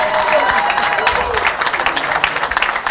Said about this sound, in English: please give me a round of applause for my father